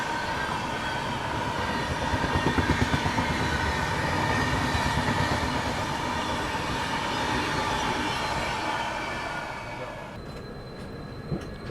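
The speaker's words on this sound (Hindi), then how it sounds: "यहाँ पे अपनी ट्रेन स्लो हो रही है" Inside the Mumbai-Ahmedabad double-decker express, a constant rumble of wheels and rattling carriages fills the cabin, with rhythmic clatter as the train gradually slows and the noise eases toward the end.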